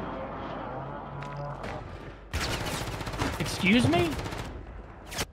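Gunshots in Call of Duty on Rebirth: a quieter stretch gives way to dense, rapid bursts of close automatic fire, with a voice speaking over the shooting.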